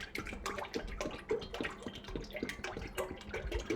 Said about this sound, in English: pour my a lot of canola, this jug of canola oil, into my container.